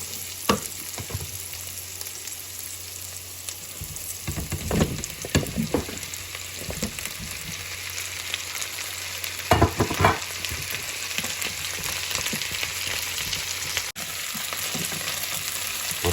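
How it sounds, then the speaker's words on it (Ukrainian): Pelmeni dumplings fry with onion in a pan, giving a steady sizzle with a few louder bursts of stirring and scraping around the middle, close by and alone. "Будемо так підсмажити, щоб наші пельмені стали рум'яними"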